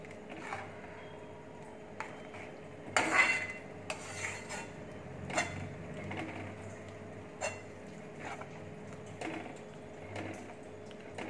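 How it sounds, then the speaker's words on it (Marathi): Yogurt kadhi stirred in a pot with a spoon, giving soft scraping and occasional clinks of metal against the pot, with a sharper knock near the start, quiet and close throughout. "हे छान हलवत राहा जोपर्यंत गरम होत नाही तोपर्यंत"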